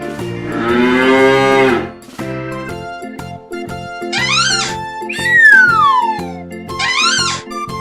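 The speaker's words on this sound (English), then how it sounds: "cow" A single long cow moo opens the sound, loud and close, followed by a bouncy children's-song backing with synth tones and sweeping effects; no one talks.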